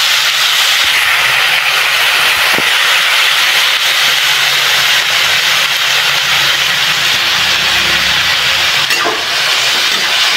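Cluster beans hit hot oil spiced with turmeric and onion-garlic masala, producing a loud, continuous, dense sizzle that holds steady for the whole stretch with no talking.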